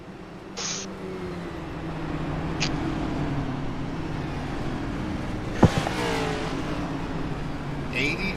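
Cup Series race cars roar at the start of a race, a steady engine drone building and holding with a sharper rasp partway through, under continuous commentary.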